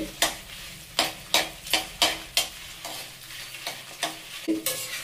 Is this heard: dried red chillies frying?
yes